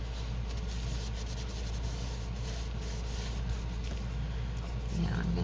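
Steady dry rubbing of a transfer being burnished onto a cupcake-themed journal card, a continuous close scratchy friction sound with no voice over it.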